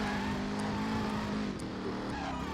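Car tyres skidding and burning in the driving game Driver San Francisco: a sustained engine drone with a continuous squealing smear of tyres, loud and unbroken across the short stretch.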